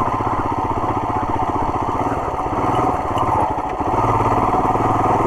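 Royal Enfield Himalayan motorcycle riding in second gear on an off-road track, its single-cylinder engine thumping in a steady, loud, close rumble throughout with no talk.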